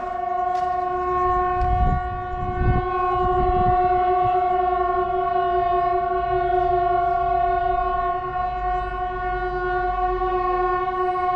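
Train horn blaring in a long sustained chord while a train rumbles past, with heavy low clattering of wheels early on, loud and steady throughout.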